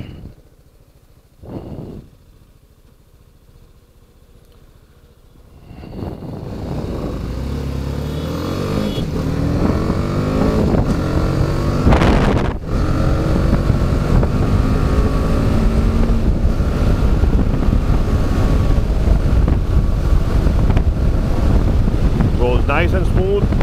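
A BMW G310GS demo motorcycle on a test ride, its engine droning steadily and smoothly under heavy wind rush after a quiet start, with a rider talking over it and no hard revving.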